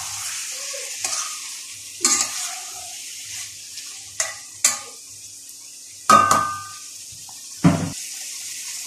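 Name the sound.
stirring spiced liver in a frying pan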